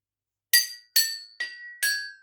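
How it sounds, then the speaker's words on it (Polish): Airgun pellets strike homemade metal gong targets on a DIY backyard shooting range, four sharp ringing clangs in an uneven sequence, each decaying briefly, loud and close with no talk. "jak fajnie jeszcze się zgrywają nasze gongi"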